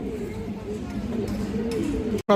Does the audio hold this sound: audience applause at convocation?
no